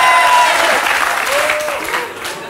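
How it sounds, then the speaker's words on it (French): Studio audience applauding on cue on a French television set, a dense sustained clapping that stays loud and close and tapers slightly toward the end. "Quand il veut que les gens applaudissent,"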